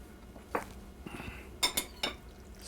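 Utensil clinks and scrapes against a pot while pasta fagioli with broth is stirred, a few sharp close knocks spread over a couple of seconds with no talk.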